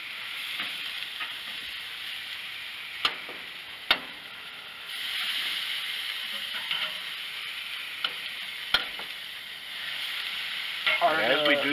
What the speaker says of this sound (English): some of that juice falls down into the flame, causing it to kind of flare up a little bit